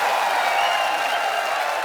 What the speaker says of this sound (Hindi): रवीना टंडन जी के लिए जोरदार तालियां।